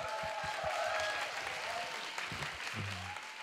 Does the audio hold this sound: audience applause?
yes